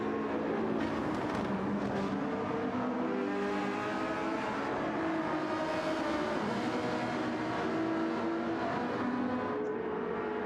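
A Ferrari 458 race car engine in Gran Turismo 7 drones steadily at high revs, a continuous layered engine tone that shifts slightly in pitch as it runs, moderately loud, with no talking.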